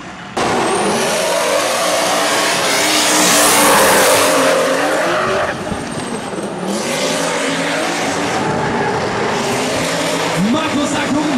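Drift cars, including a BMW M2, rev hard at full throttle with screeching tire squeal in a loud, continuous roar at a drift battle event, engine pitch rising and falling, with a crowd and announcer's voice mixed in.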